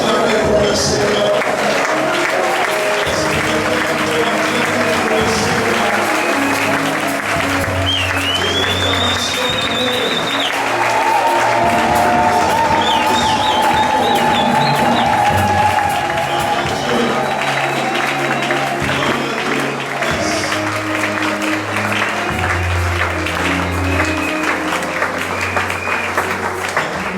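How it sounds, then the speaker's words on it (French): A church congregation applauding and cheering, a dense steady wash of clapping with voices calling out and singing over it, loud and sustained throughout. "Je veux terminer et acclamer pour le Seigneur."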